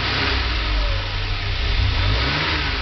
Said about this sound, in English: here's the engine. I'll rev it by hand a few times for you.